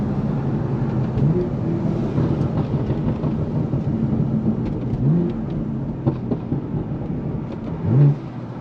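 A BMW M4 with an S55 engine and titanium exhaust burbles and rumbles steadily at low pitch, with a few brief pops near the end and faint freeway traffic behind it.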